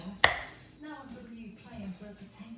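A knife slices through a raw butterflied chicken fillet on a board for chicken katsu curry, giving one sharp chop followed by softer cutting scrapes, with a voice talking quietly underneath.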